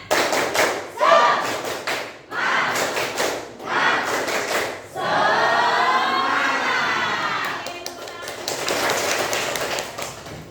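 A group doing a rhythmic spirit clap in unison: bursts of sharp synchronized claps separated by short pauses, with chanting voices and crowd shouting over and between the clapping, close and lively.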